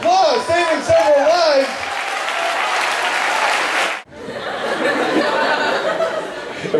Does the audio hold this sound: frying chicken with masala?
no